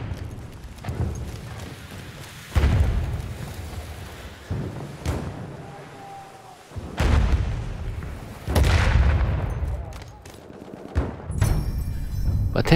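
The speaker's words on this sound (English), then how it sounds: "Somebody's definitely shooting somebody." Bursts of gunfire and booming volleys from a World War 1 video game team deathmatch, with repeated loud blasts and rattling shots at irregular intervals, some near and some distant, and no talking.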